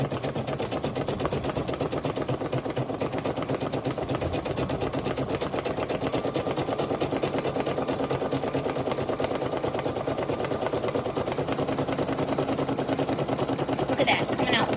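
A Brother SE1900 embroidery sewing machine stitches a heart applique, its rapid needle chatter running steadily and close throughout, with light voices underneath.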